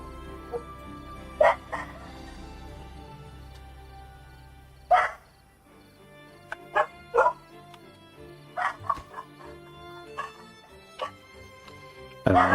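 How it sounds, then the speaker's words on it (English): Dogs barking outdoors in a wooded area where beavers are active, with several sharp separate barks and yips spread irregularly over a quiet background, moderately close. "I do not know what they're barking at."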